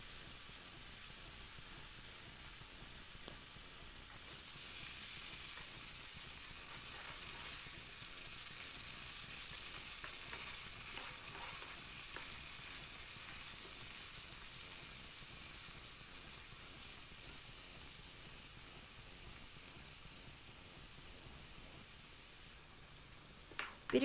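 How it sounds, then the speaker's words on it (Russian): Vegetables in tomato sauce, lightly salted, simmer and sizzle in a frying pan, making a steady, close hiss that holds for the whole stretch, with faint stirring scrapes and a small knock at the end. "Затем выливаем томатный соус, слегка подсаливаем, перемешиваем, доводим до кипения и тушим 1 минуту"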